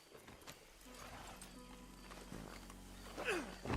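Hooves clip-clop at a walk amid Red Dead Redemption 2 game sound effects, with a low ambient hum and a brief whinny-like sweep near the end.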